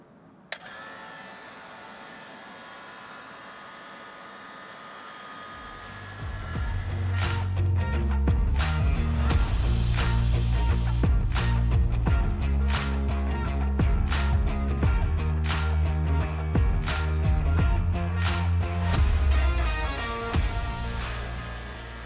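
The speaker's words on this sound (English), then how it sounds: "So let's turn the vacuum pump on." An HVAC vacuum pump evacuates the line set of a Cooper&Hunter air handler during installation. After about six seconds of near quiet, the pump motor starts with a loud, steady low hum, and sharp clicks are scattered through it.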